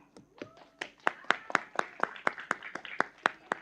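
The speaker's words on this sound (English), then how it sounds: "Another big round of applause for Gwyneth." A single pair of hands claps steadily and close at a speech contest, about four crisp claps per second, with a faint voice at the start.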